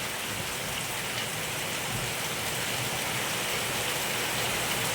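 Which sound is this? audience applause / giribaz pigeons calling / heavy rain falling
heavy rain falling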